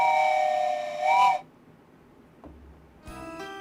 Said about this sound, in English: at this time of night, you get a virtual train whistle